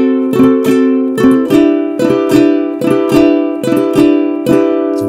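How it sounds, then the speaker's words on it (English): A ukulele is strummed with the finger dragging across the strings on each upstroke, giving a busy, cluttered pattern of repeated chord strokes, close up and without any talking. "We don't want to drag our finger across the string when we come back up. It's going to sound like this."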